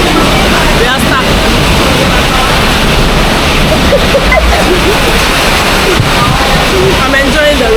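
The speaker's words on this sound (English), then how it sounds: "See, it's raining." Heavy rain pours down during a massive storm in Kuala Lumpur, a dense, loud, constant wash of noise close by, with faint voices in the background.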